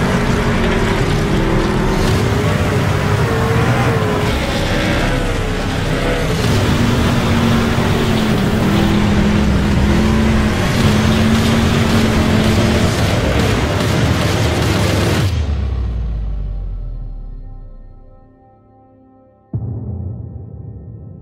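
Race truck engines roar steadily in an iRacing session, loud and close, then the sound fades out abruptly before a brief quieter engine hum returns.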